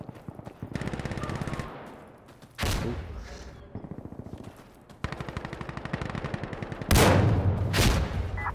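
Gunfire in the video game Arma Reforger comes in loud, rapid automatic bursts, several sustained volleys separated by short pauses and sharp single blasts, fairly close and dominating the mix.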